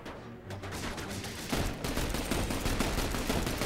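Dense bursts of gunfire in the video game The Bureau, rapid overlapping shots building into a loud, continuous fusillade with no talk.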